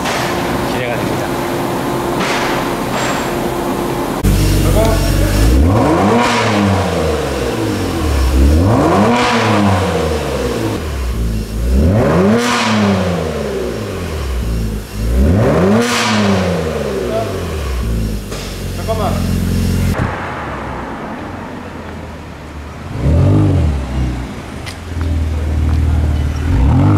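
A Hyundai Genesis G70's engine revs repeatedly through a loud, throaty custom exhaust, each rise and fall distinct, then drops to a quieter idle with a final blip.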